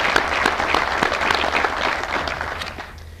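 Audience applause at a Boulder City, Nevada State of the City address, steady dense clapping from a seated crowd that holds strong throughout and tapers slightly toward the end.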